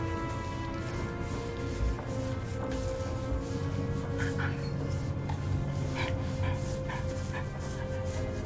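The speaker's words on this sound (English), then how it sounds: "This is one of the dogs you always hear barking" A young dog barks in short sharp yips mixed with whimpers, fairly close, repeating irregularly over a steady background hum.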